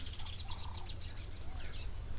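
At a waterhole, weaver birds chatter and chirp in a busy high twittering chorus, fairly faint and a little distant, over a low steady background hum.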